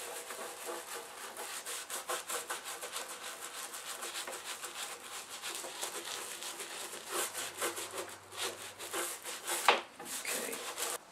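Stripper is scrubbed out of the grooves of a reed organ case in rapid, rhythmic rubbing strokes, close and fairly quiet, with brief scraping accents near the end.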